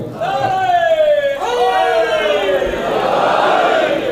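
A large crowd at a religious gathering chanting the Ya Ali slogan, a loud, drawn-out unison call that swells, repeats once and fades into a roar of many voices.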